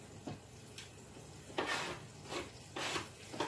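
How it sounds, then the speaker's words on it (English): Olive oil sizzling in a pot on the stove while preparing keto chicken noodle soup: a quiet, steady crackle broken by several short bursts of stirring and scraping against the pot. "You hear that sizzle?"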